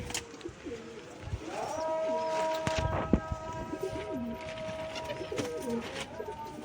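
A pigeon coos in soft, low rolling phrases amid a noisy loft, with a steady tonal hum and scattered clicks and rustles in the background.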